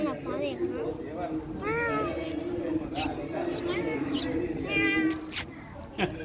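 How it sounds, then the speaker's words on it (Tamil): A white cat meows repeatedly, each cry rising and falling, close by amid a person talking and light background noise. "முன்னாடி ஒரு வெள்ள பூனை இருக்குது"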